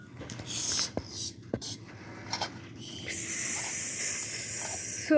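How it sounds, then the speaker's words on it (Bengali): Three eggs fry together in hot oil, giving a bright hiss that swells and holds steady over the second half, after some faint clicks and quiet shuffling at the start. "ডিম ভাজা হচ্ছে, 3টা ডিম একসাথে গেছে"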